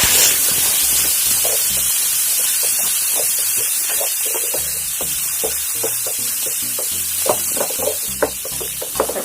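Tomatoes sautéing in a hot pan, a loud steady sizzle and hiss with occasional soft knocks and stirring scrapes, close and continuous.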